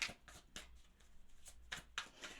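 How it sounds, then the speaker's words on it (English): Tarot cards are shuffled in a quiet room, giving a quick run of sharp riffling bursts, about six or seven of them, crisp and close, with no voices. "One more shuffle for Scorpio on that bottom row."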